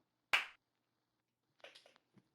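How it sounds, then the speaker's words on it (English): One sharp, bright hand clap stands alone as a raw, unprocessed snare sample for an alternative indie song, followed after a pause by faint, softer rustling clicks. "So that's literally just me clapping."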